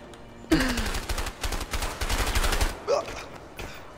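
Bursts of rapid gunfire from the video game A Way Out rattle loud and close in quick volleys over several seconds, with a brief lull and a sharp shot near the end.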